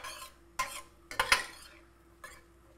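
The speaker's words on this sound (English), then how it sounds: "Add some pepper, maybe about 1/8 of a teaspoon of pepper too, black pepper too. And just stir." A utensil stirs pot roast seasoned with black pepper in a pan, producing a few distinct scraping clinks and knocks against the cookware, close and fairly quiet, spaced irregularly with no speech.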